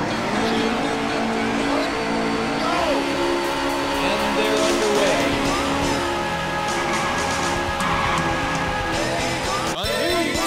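Race car engines roar and rev in the arcade racing game Daytona USA, a loud dense mix of rising engine tones, tire noise and game sound that never lets up, ending in a sharp burst.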